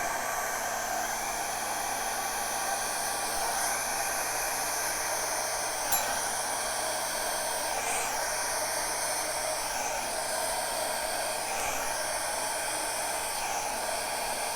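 A hair dryer blows acrylic paint across a reverse flow paint pour, producing a steady, loud, breathy roar that runs unbroken throughout, with faint shifts in pitch as the airflow is moved.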